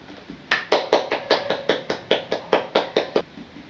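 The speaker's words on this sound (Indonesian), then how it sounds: "kita beri aplaus dulu kepada Fitri" In a classroom, about a dozen evenly spaced hand claps ring out in a quick, steady rhythm after a short pause, close and fairly loud.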